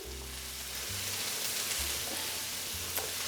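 Asparagus sautéing in a hot pan in a teaching kitchen gives a steady, close crackling sizzle that holds evenly throughout, with a low hum running underneath.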